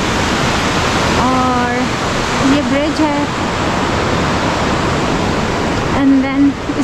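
A river rushes beneath the Minapin bridge, a loud continuous broadband roar of fast water that fills the whole clip while someone speaks briefly over it.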